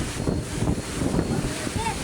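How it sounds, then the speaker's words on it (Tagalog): Strong typhoon wind on a farm roars and buffets the microphone in a constant, heavy rush, with a voice faintly audible beneath it. "Sobrang lakas po ng hangin."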